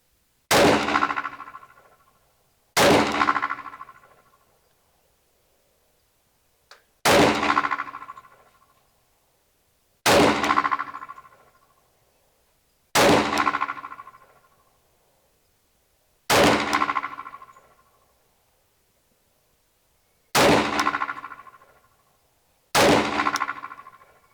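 Eight single shots from a Glock 20 SF Gen 3 10mm Auto pistol fired over a chronograph at an outdoor range, each a sharp loud crack with a ringing decay, spaced a few seconds apart.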